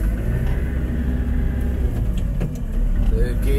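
A JCB telehandler's diesel engine rumbles and pulls in second gear, loud and close, with a voice briefly heard over the machine.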